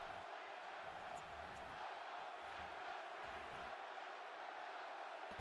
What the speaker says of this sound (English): And now the crowd comes to life.